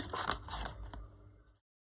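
Hairdressing scissors snipping paper while making a craft tag: a close, dry crunching cut of about a second and a half that fades into silence, with no talking.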